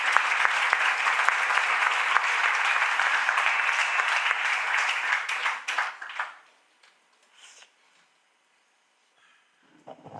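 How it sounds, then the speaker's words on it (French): A conference audience at a general medicine congress plenary applauds loudly and steadily for about six seconds, then the clapping tapers off into near silence with a faint stray sound near the end. "je pense qu'il faut applaudir très fortement Jean Joyer"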